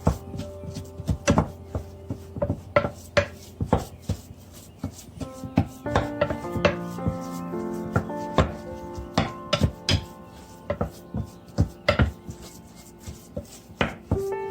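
A spoon stirs and taps through the filling for Azerbaijani lavangi stuffed chicken, giving steady scraping knocks and clicks against the bowl over soft background music.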